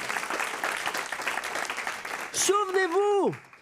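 A church congregation claps steadily for a couple of seconds, a dense patter of hands that ends as a loud voice rises and holds a long, sung cry over it.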